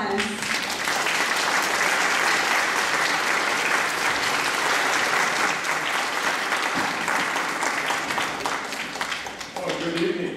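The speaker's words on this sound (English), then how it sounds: "Please give him a round of applause." An audience applauds at an evening event as a city mayor is invited to speak, dense continuous clapping filling the room for about ten seconds before tapering off near the end.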